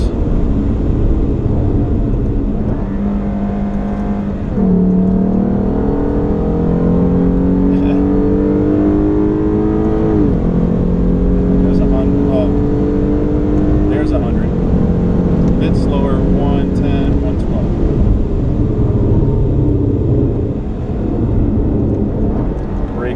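Lexus RC 350 F Sport on a race track, its engine note rising and falling steadily through gear changes and corners, loud and close from inside the car throughout.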